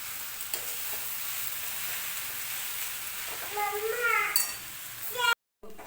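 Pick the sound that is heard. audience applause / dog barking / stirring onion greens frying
stirring onion greens frying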